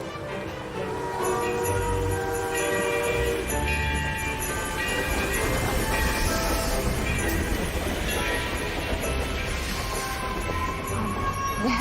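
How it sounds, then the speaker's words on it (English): A vintage Long Island Railway train rolls steadily along with continuous rumbling, metallic rattle and faint bell-like tones, loud and close throughout, with no talking. "The Long Island Railway puts this vintage train back into service every December."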